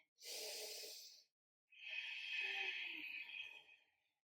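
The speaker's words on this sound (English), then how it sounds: "Big inhale, big exhale. Breathe in and out." Deep, audible breaths during a core exercise: a forceful inhale, a pause, then a long airy exhale, close and isolated.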